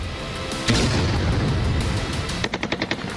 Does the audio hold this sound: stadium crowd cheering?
no